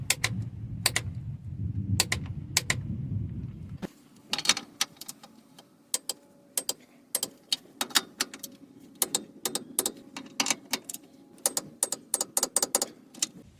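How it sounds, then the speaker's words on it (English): A torque wrench clicks while a nut is tightened to 70 foot-pounds on a Toyota Sienna during a motor mount job: a series of sharp, dry clicks in quick bursts, close by in a quiet garage, after a low rumble at the start. "we got to torque this nut at 70 foot-pounds. I don't know if you guys can hear the click."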